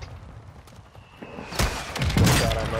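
A mortar strike in the video game Warzone, with a low rumble giving way to a loud, broad explosive blast and crackling debris that stays heavy through the end.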